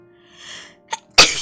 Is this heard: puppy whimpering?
no